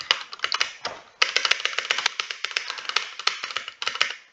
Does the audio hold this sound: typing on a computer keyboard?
yes